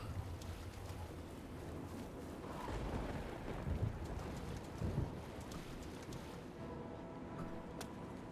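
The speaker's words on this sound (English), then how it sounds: "storm's drawing in." A thunderstorm in the video game Oblivion: steady rain hiss with low rumbles of thunder swelling twice in the middle, continuous and fairly quiet, with no talking.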